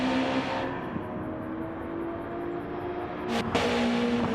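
Race cars in a racing video game driving round the Arnage corner at Le Mans, a steady, close engine drone with a sustained whir and a brief swell of revving near the end.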